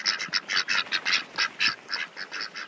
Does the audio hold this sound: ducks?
yes